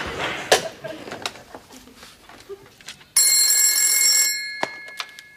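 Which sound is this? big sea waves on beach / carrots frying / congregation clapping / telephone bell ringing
telephone bell ringing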